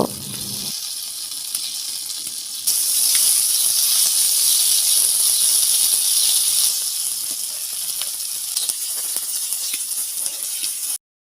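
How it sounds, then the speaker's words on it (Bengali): Pointed gourd (potol) fries in a pan, a loud, steady hiss of hot oil that jumps louder early on and then keeps up an even crackle before cutting off. "তো এখন আমি এই প্যানটাতে ভালোভাবে পটলগুলো ভেজে নিব।"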